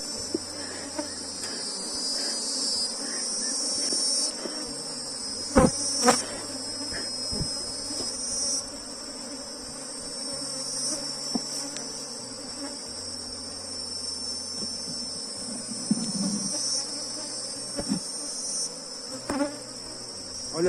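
Honeybees buzz continuously around a frame lifted from a hive during a colony split, a dense, steady hum with occasional sharp knocks and handling clicks and no speech.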